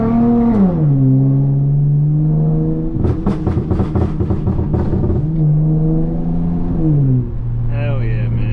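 A nearby Dodge Charger Scat Pack engine revs loudly, rising and falling in pitch with a burst of crackling pops in the middle, while a V6 Charger idles and a voice talks over the sound.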